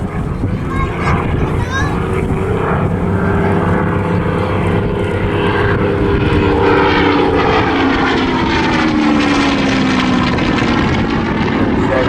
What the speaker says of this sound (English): Distinct sound of this Hurricane compared to the Spitfire that you've seen. It's a 27-litre Merlin V12.